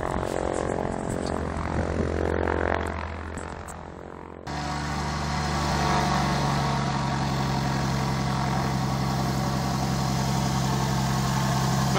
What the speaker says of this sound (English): he's just going to sit there and listen to his engine